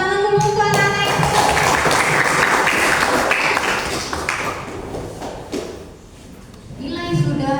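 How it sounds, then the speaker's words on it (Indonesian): Children in a seventh-grade classroom clap their hands in a brisk burst of applause that tapers off, with voices around it. "Tepuk tangan dulu untuk anak-anak ibu."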